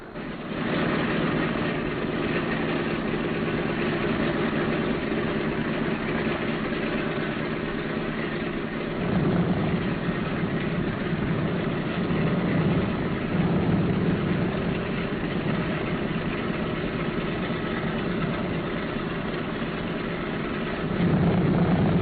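Boeing B-17 bomber engines idle on the ground, a steady droning rumble that holds nearly constant for the whole span and swells slightly at a few points, with no voices.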